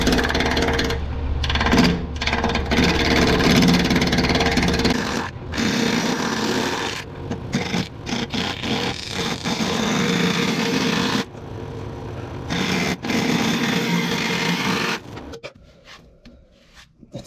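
Wood lathe spinning a piece of wet yet rock-hard wood at about 1,000 RPM, giving a steady whirring hum with scraping from the tool that drops out in short gaps and fades near the end.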